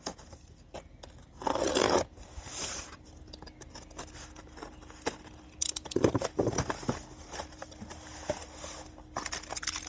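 A cardboard box for an electric bike being opened up close: scattered scratchy rustles, tearing and tapping with louder bursts of ripping, no talk.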